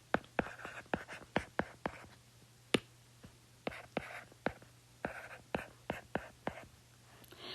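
A pen writing figures on paper, quick close scratches and taps in short irregular bursts across the stretch, with a faint steady hum underneath.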